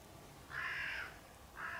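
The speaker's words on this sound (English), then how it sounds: "was that a crow in the middle of the night?" Two harsh caws from a single crow at night in Tiel, Netherlands, the first longer and louder, the second shorter, at moderate distance over a quiet background.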